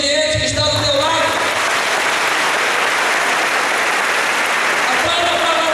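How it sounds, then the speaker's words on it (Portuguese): Congregation applause at a church training gathering, a loud, dense burst of clapping that breaks in over the closing words of a voice and carries on strongly while a singing voice returns briefly near the end. "Então aplauda este obediente que está do teu lado."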